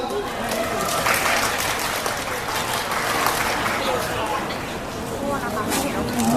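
Applause at a press conference for an Asia tour, with steady mid-level clapping from the crowd of media and guests mixed with a little background chatter.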